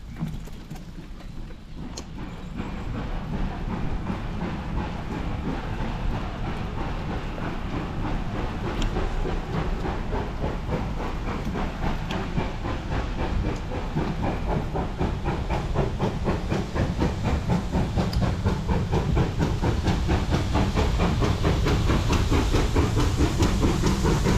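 The steam locomotive 7812 Erlestoke Manor leaves Hampton Loade with a freight train, producing a continuous loud hiss of steam and rumbling that builds steadily, with faint rhythmic clatter underneath and no talking.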